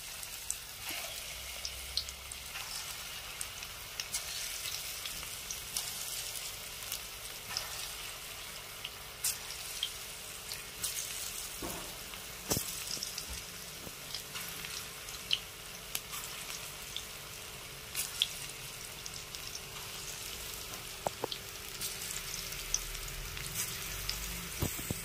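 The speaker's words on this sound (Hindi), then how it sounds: "अच्छी तरह से हम फ्राई कर लेंगे इसको भी।" Chana dal pakoras deep-frying in hot oil give a steady, crackling sizzle throughout, close and moderately loud, with occasional sharper pops and clinks standing out; no one speaks.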